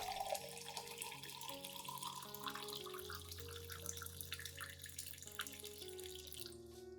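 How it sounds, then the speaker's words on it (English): Hot water runs and pours steadily into a container, a continuous splashing stream with faint drips, with no talking, as 500 millilitres are prepared for a turmeric houseplant mixture. "First, prepare 500 milliliters of hot water."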